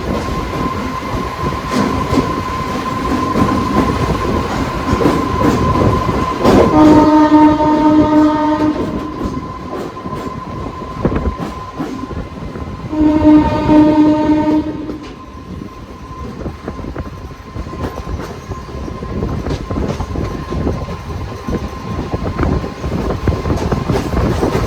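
A MEMU passenger train running out of Palakkad, heard from inside the front coach, rumbles loudly and steadily with clicking wheels, while its horn sounds twice in long, harmonic blasts.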